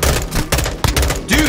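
Rapid M16 rifle fire in Warzone, a close, loud string of cracking shots in quick bursts with brief gaps, filling the whole moment.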